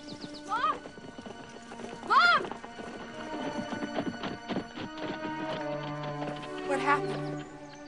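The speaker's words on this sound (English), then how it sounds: "Such a sweet horse." A horse in a film scene whinnies several times while its hooves clip-clop unevenly throughout, with the neighs rising above the steady hoofbeats.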